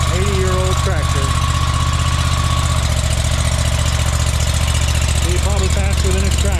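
An 80-year-old Farmall H tractor engine chugs loudly and continuously up close, a heavy steady idle with a voice speaking over it at the start and end.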